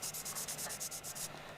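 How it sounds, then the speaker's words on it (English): Sanding of a plastic Gundam model kit part, heard close to the mic as a rapid, even run of scratchy rubbing strokes, about ten in quick rhythm, with no talk. "That you can hear the cuts and the sanding?"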